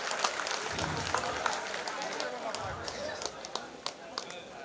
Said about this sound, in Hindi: तालियां लगनी चाहिए कृष्ण कुमार जी के लिए